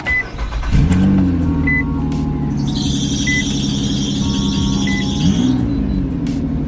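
An old van's engine runs with a steady, loud idle hum and a squealing belt-like whine rising mid-clip, close by with faint intermittent high chirps and no talk.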